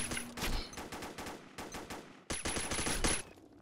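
Rapid bursts of CQB rifle gunfire in the Combat Arms game, a capture-the-flag match, firing in dense repeated volleys with a brief pause before another sustained burst.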